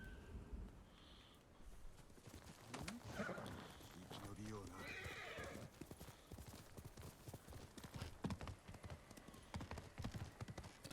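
Horse hooves clip-clopping in the video game Ghost of Tsushima, a quick irregular patter with a whinny and snorts, under steady talking.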